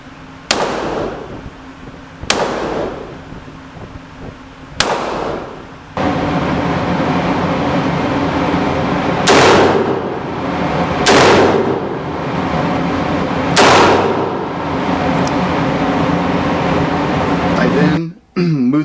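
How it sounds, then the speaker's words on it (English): Taurus M85 .38 Special revolver fired double action at 7 yards, several sharp loud shots spaced a couple of seconds apart, each followed by a ringing decay, with steady background noise between. "they were all fired double action from"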